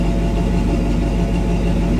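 A 350 engine in a 1966 Chevy C-10 runs at a fast idle near 1600 RPM, producing a steady, close, loud mechanical drone with no breaks and no talk.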